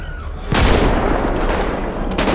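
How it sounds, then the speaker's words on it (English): A sharp, loud gunshot cracks out in GTA 5, followed by a dense, rattling stream of return fire from NPCs that continues close and steady. "Oh God, they're shooting back."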